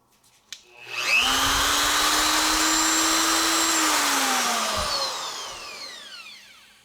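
A tungsten grinder spins up with a sharp whine and grinds a 1/8 inch tungsten electrode for about four seconds in a steady, loud, high-pitched buzz, then winds down. Nobody speaks.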